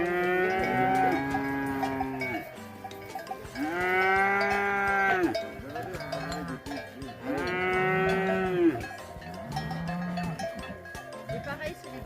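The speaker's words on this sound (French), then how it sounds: "Et pareil, c'est les vaches qui arrivent là." Cattle arriving during a mountain transhumance in the Ossau valley moo in long, loud repeated calls, about three close bellows with cowbells clanking around them.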